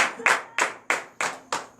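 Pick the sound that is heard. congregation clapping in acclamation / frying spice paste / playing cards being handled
congregation clapping in acclamation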